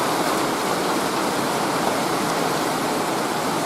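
Light morning rain shower falling outdoors, heard as a steady, even hiss of rainfall that fills the whole clip without pauses or voices.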